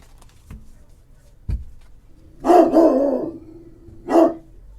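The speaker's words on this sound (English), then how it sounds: "Two Rotties, they love to bark." Two Rottweilers bark a few times up close, deep and loud: a double bark, a pause, then one more, with a couple of soft knocks before.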